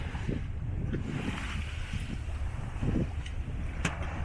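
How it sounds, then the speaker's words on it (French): A sailboat runs under sail with its engine off in about ten knots of wind. Steady wind rush and water wash against the hull fill the sound, with a few soft splashes and creaks close by. "Donc on est sous voile, on a arrêté le moteur, il y a 10 nœuds de vent."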